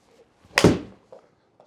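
A golf club strikes a thin shot on an E6 Connect golf simulator, a single sharp, loud impact with a quick decaying thud, followed by a couple of faint small knocks.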